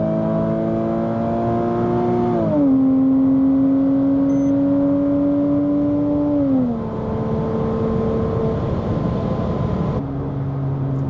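A Porsche Cayman runs flat out on a dried-out Autobahn, its engine drone holding steady and loud with two upshifts where the pitch drops, then climbing again under constant road and wind roar.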